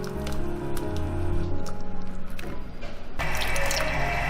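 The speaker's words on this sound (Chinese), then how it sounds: "再过一下冷水" Blanched mushrooms rinsed under cold running water from a kitchen tap, a steady splashing stream that grows brighter and louder near the end as the flow hits the mushrooms.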